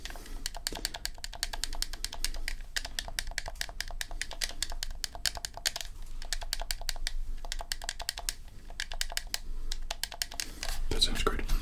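Quick, crisp plastic clicks from the X button of a game controller, tapped repeatedly in a steady rapid stream, close and intimate in an ASMR setting with soft whispered talk faintly beneath.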